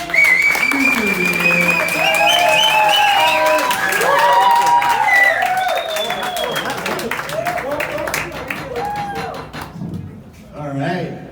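Applause for a comedian at a standup show: a dense spread of clapping that carries for several seconds, with crowd whoops and voices mixed in, then thins out and tails off near the end.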